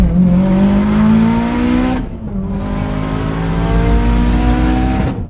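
A 2015 Mitsubishi Evo is driven hard, its engine loud and close as it revs steadily upward, drops briefly at a gear change, then climbs again to a second peak before easing off.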